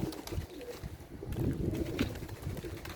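Pigeons coo softly and repeatedly inside a loft, with rustling and faint wing movement close by, a steady low murmur of several birds.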